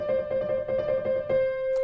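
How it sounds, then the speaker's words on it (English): Rapid piano trill alternating between two adjacent notes, a bright steady shimmer of quick repeated keystrokes that stops and leaves a fading held tone, played alone with no voices. "it's when you trill between two notes that are right next to each other really fast."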